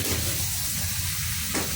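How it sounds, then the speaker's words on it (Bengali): Luchi, puffed Bengali flatbread, frying in hot oil, giving a steady close sizzle and hiss throughout with no talk. "এখন আমরা লুচি ভাজছি। একদম লুচি ফুলকা ফুলকা লুচি"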